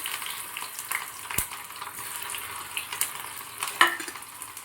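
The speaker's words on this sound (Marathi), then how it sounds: "आता मी हा पहिले याच्यामध्ये कांदा घालून घेते" Onion frying in hot oil for an egg curry, a steady near sizzle with occasional sharp clicks and clinks of a utensil against the pan, and no voices over it.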